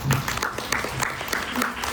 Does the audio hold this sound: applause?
yes